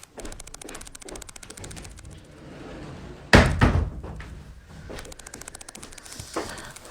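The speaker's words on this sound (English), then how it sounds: "let me just close the door" An indoor door being shut, a single loud thump with a short rattle at mid-clip, surrounded by quieter rustling and clicking handling sounds.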